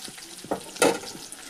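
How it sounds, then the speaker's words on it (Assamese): Onion and bay leaf fry in mustard oil in a kadai, a soft sizzle broken by a few stirring scrapes and one louder stir near the middle. "মিঠাতেল অকণ দি পেলাই এনেদৰে আৰু ভাজি আছোঁ"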